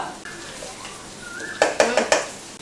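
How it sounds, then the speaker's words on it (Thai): Rice being stir-fried in a pan at home: a spatula scrapes against the metal, then several sharp clanks ring out in quick succession near the end. "ขณะที่รอให้น้ำเดือดป้าก็จะผัดข้าวต่อ"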